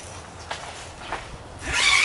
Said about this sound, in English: That simply zips up the side